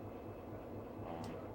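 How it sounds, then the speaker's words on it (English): Inside the cab of an Amtrak SD40 diesel locomotive, a steady, loud low-pitched engine rumble and drone continue throughout with no voices. "This is an SD40. This is a typical engine that Amtrak has."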